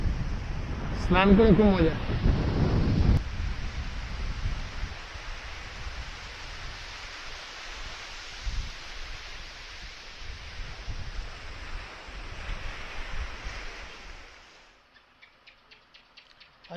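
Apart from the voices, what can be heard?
large ocean waves at Mirissa, Sri Lanka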